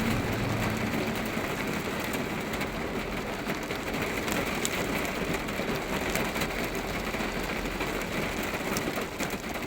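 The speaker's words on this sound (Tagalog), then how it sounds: "Ang lakas ng ulan guys oh." Heavy rain pours steadily in a dense, unbroken hiss, with no voices present.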